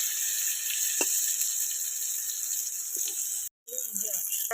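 Pointed gourd and thin eggplant slices sizzle in a pan of hot oil, a steady bright hiss with a couple of utensil clicks, broken by a brief silent gap, while a voice speaks faintly.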